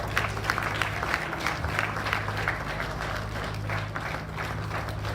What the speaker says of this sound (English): Round of applause for the men of the moment.